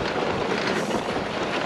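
Steady wind rushing across the microphone on a sled dog expedition pulled by 30 dogs on the Halti route, a loud continuous broadband roar with no talk.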